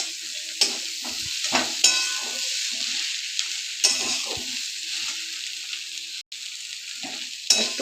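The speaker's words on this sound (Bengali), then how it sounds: "আর একটু নাড়াচাড়া করে তারপরে নামিয়ে নেব।" Shrimp and flat beans frying in a pan, stirred with a utensil that scrapes and clacks against the metal over a steady close sizzle, with no talking.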